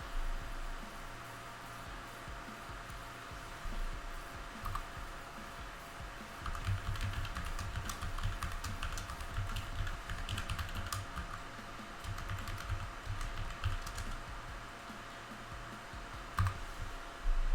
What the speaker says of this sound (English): I'm pretty sure I'm typing in the correct password here